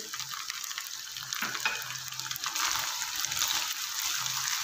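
Chopped onions frying with two tablespoons of added water in a pan for dhaba-style mutton keema, giving a steady hiss and sizzle with faint stirring, close and continuous without speech.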